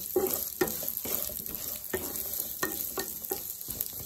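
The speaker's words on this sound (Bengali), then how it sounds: "এবার এগুলোকে তেলে ফ্রাই করে নেব" Onions, garlic and ginger frying in oil sizzle steadily up close, broken by regular spatula stirs and scrapes against the pan about every half second to second.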